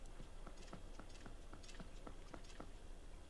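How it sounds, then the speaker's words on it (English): Footsteps in The Legend of Zelda: Twilight Princess, a quiet, regular run of soft clopping steps repeating about every quarter second. "I heard footsteps."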